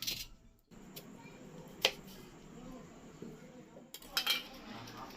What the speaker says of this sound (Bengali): আজকে আমি একবার চলি আলুগুলো কেটে নিই